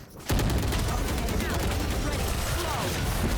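Rapid gunfire erupts in a first-person shooter game, a sudden dense barrage of shots starting abruptly and continuing loud and steady, with speech faintly mixed beneath.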